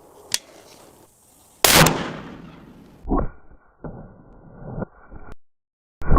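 A .50 caliber rifle firing a silver tip round into an engine block, with a sharp crack followed by a loud booming blast, then a few fainter thuds and echoing reports, outdoors.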